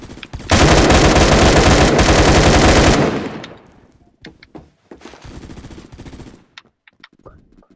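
Sustained automatic gunfire in a Roblox shooter game, a loud continuous burst lasting a few seconds, then trailing off into scattered quieter shots and clicks.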